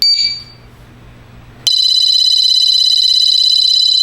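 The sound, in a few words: Mosaic MA20 portable motion sensor alarm sounding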